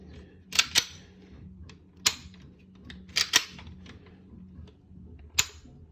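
Sharp, close mechanical clicks from the trigger of a KJW KC02 airsoft gun fitted with a PTDR-22 kit, in pairs and singles with irregular gaps, over a low, quiet room hum.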